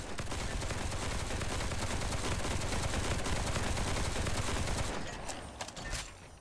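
Rapid gunfire in a video game, a dense, continuous burst of shots that fills most of the stretch before breaking off into a few scattered clicks and quieter shots.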